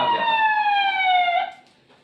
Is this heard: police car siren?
yes